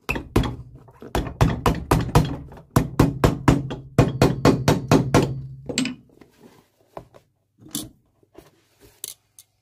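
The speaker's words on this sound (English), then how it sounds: "Just gonna hammer through these old nails and pull them out from the front." A hammer strikes rapidly on a leather shoe sole to drive out old nails from a Loake Paisley shoe, a fast run of sharp, close taps followed by a few scattered knocks.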